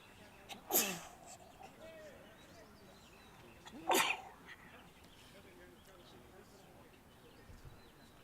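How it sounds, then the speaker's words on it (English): A cricket commentator sneezes twice in the commentary box at a Hong Kong Premier League one-day match, two sharp bursts a few seconds apart, faint and muffled over quiet background murmur. "Not sure if you heard me sneezing in the background"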